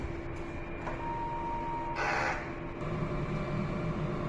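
A DTF printer runs a print head heat clean, giving a steady mechanical hum with a brief louder whirring burst midway and a faint tone earlier, close and alone.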